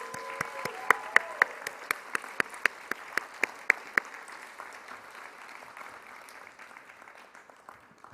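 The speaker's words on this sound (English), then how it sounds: "Let's give a round of applause to all the graduates." Graduating class audience at a UCLA commencement ceremony breaks into applause, steady clapping with sharp individual claps standing out early, gradually thinning and fading over about eight seconds.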